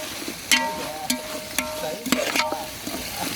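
Shallots frying and being stirred in a pan for snail biryani: a steady sizzle broken by several sharp metallic scrapes and clanks of the spoon against the vessel, close and fairly loud.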